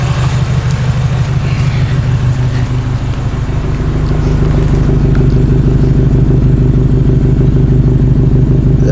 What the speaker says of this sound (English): Once the car's warmed up, the idle sound is not too loud at all.